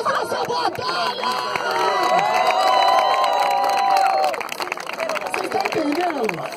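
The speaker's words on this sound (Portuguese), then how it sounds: "Palmas pra essa batalha!" A crowd at a freestyle rap battle in Barueri, São Paulo, cheers and applauds loudly and steadily, with whoops and shouts and voices calling over the dense clapping, which eases slightly near the end.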